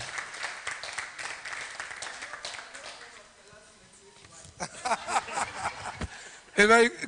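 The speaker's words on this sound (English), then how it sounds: "Can you please put our hands together for Mrs. Yemisi Ransom Kuti." An audience at a press conference for a business fair gives a round of applause for Mrs. Yemisi Ransom Kuti, moderate clapping mixed with talk, then a louder burst near the end.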